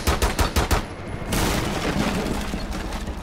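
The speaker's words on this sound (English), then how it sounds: "He's gonna come investigate the gunshots." A quick volley of rapid gunshots in the video game Rainbow Six Siege cracks out at the start, then a sustained rumbling roar of continued fire and noise fills the rest, loud and close.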